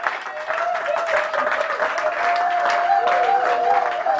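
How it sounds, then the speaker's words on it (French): A church congregation applauds, a dense steady clapping that carries on throughout with a voice and faint tonal sound running underneath. "Je veux qu'on acclame Dieu."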